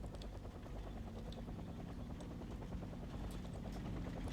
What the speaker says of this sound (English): This is one precise chopper pilot landing his helicopter pretty much right next to a vehicle without hitting it with the rotor blades.